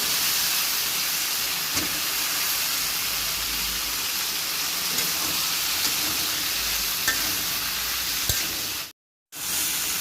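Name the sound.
jackfruit, potato and shrimp frying with spices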